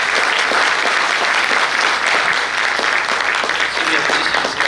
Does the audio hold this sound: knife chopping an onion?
no